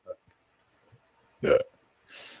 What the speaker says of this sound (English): fucking got the hiccups